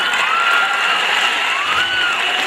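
A live stage-show audience claps and cheers in a dense, steady roar that lasts the whole moment, with a few rising whistle-like tones riding on top.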